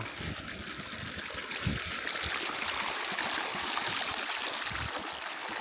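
A river stream flows steadily in rural Dembia near Gondar, a continuous rushing, trickling wash of water heard close and alone.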